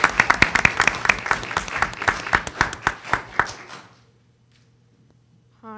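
Audience clapping at a school board of education meeting, a short burst of distinct claps that thins out and stops, leaving near silence.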